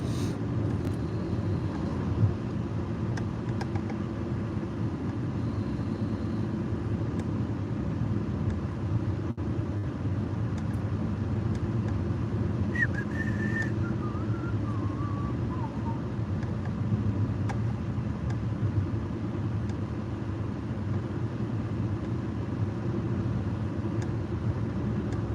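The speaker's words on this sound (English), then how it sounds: "Got stuck behind the dump truck." Steady low road rumble inside a car on a morning drive, held behind a dump truck, a constant engine and tyre drone with no sharp events, faint and unchanging throughout.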